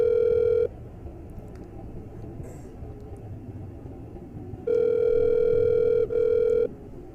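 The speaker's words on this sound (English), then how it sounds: "Okay, we're calling Jeff." A steady telephone dial tone sounds while placing a call, loud at the start, then dropping away to a quiet line hiss before returning in two sustained bursts with a short break between them.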